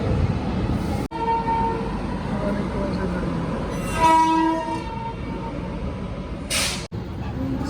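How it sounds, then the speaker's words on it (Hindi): The Mussoorie Express pulls into a junction, its horn sounding in long, loud tonal blasts over the steady rumble of wheels and carriages, with platform noise and brief bursts of air around it. "जंक्शन पर अराइव करती है मसूरी एक्सप्रेस बिल्कुल ऑन टाइम"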